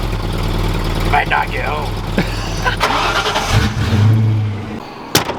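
An old British car's engine turns over and runs, a low, rumbling idle with a few revs, close by, while people talk over it.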